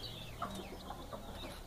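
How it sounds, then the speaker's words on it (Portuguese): Free-range hens with their chicks cluck softly in a backyard, with faint, scattered calls heard from a distance and no talking. "Tô fazendo uma filmagem aqui de longe das minhas galinhas soltas no quintal com os pintinhos."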